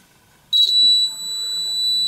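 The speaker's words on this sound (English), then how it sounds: "Does the buzzer work?" A sharp, steady electric buzzer tone starts abruptly and holds continuously, high-pitched and close, after a brief quiet moment.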